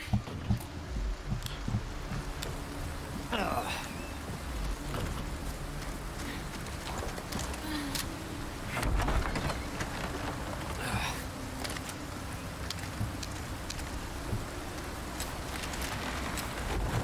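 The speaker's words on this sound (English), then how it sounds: "because it's raining" Steady rain patters and hisses throughout in Resident Evil 4 Remake, with occasional sharper crackles and distant chirps over a constant low rumble.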